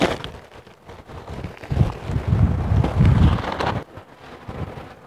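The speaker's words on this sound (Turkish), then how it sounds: "Çok rüzgar var ya." Strong wind buffets the microphone in rough, low rumbling gusts during an outdoor honey harvest, swelling loudest in the middle, then easing off.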